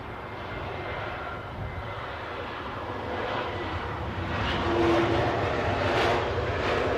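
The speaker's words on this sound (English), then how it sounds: "next arrival is an Austrian Airlines A320neo, inbound from Vienna" An Austrian Airlines Airbus A320neo inbound from Vienna arrives at London Heathrow, its engines a broad, steady roar that swells gradually louder over several seconds, heard from a distance without talk.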